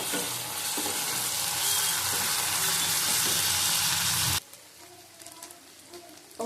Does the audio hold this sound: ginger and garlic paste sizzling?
yes